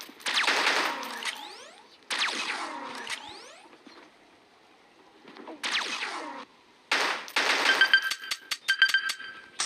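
Bursts of rapid automatic gunfire from a weapon in the mobile shooter Pixel Gun 3D, four loud volleys of crisp repeated shots separated by short quiet gaps.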